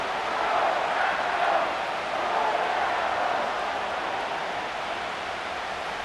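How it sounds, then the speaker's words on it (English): Steady, dense roar of a stadium crowd in Madden 25 during a Detroit Lions versus Green Bay Packers game, a continuous wash of cheering that holds even and loud throughout with no distinct voices. "This crowd into it now as we get to third down."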